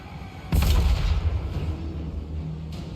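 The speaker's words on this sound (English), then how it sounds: "Magma cannons, start trying to knock the guys off the walls themselves." Magma cannon fire in Total War Warhammer 3 sounds as one heavy, deep boom that hits suddenly and rolls on as a loud, rumbling tail under ongoing battle noise.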